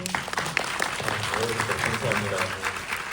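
Audience clapping steadily at a film screening Q&A with the actors and director, dense applause from a crowd filling the room throughout.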